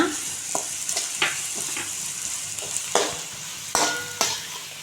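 Onions sautéing with fennel seeds in a pan for an egg masala gravy, a close steady sizzle broken by sharp scraping strokes of a spatula stirring every second or so.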